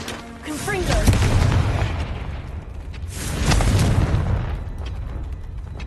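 Confringo spell explosions in the video game Hogwarts Legacy, two broad booming blasts rolling out about two seconds apart, loud and full under faint game ambience.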